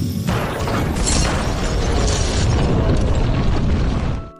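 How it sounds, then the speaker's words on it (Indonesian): A gas explosion in a film, a loud sustained roaring blast with rumbling debris filling the whole stretch before cutting off at the end. "Mereka pun berhasil mengalahkannya dengan meledakkan gas yang berada di tempat itu."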